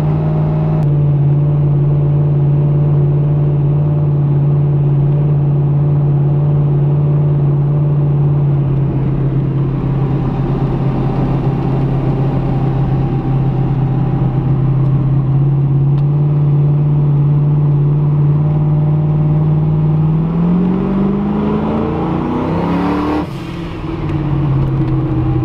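Race car driven on a public road on a New Year's Day cruise, a loud continuous engine drone heard from inside the cabin, holding steady before climbing in revs near the end, with no talking.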